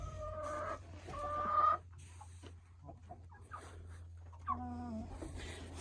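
Hens clucking inside a henhouse fitted with nests and a water trough, several birds calling in short rising and falling bursts over a steady low hum, close and moderately loud.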